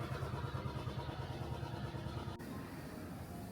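A motorcycle on a cold ride gives a steady, close engine drone mixed with rushing wind, holding an even level throughout with a slight drop near the end and no voices.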